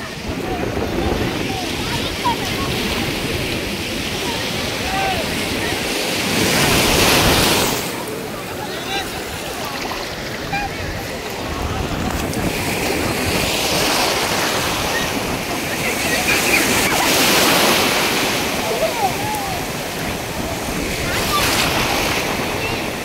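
Sea waves at Mypaadu Beach near Nellore, Andhra Pradesh, roar continuously in broad surf that swells and recedes every several seconds, with gusty wind buffeting the microphone.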